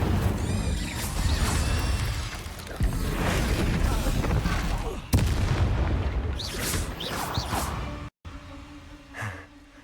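Repeated booming spell blasts from the Confringo explosive curse in Hogwarts Legacy, loud and dense through a chaotic fight, with crackling bursts, a brief drop to silence near the end, then quieter rumble.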